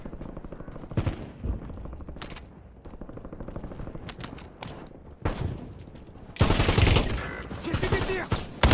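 Gunfire in the Warzone video game: bursts of rapid automatic fire and single shots, growing into a loud, dense fusillade near the end, over continuous game background noise.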